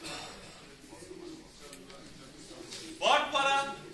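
Pigeons coo softly at a busy pigeon market where young birds are sold, a low murmur beneath steady crowd chatter and talking voices, swelling louder near the end.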